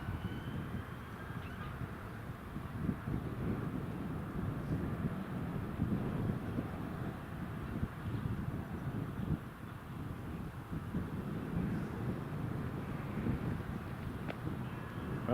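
Steady gusting wind buffets the microphone outdoors at Newcastle International Airport on a breezy, rainy day, a continuous low rumble with no talking.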